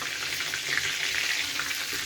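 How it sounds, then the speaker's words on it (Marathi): Chicken lollipops deep fry in oil, giving a constant dense bubbling sizzle that stays even and close throughout. "साधारण 4-5 मिनिटं लागतात लॉलीपॉप फ्राय व्हायला।"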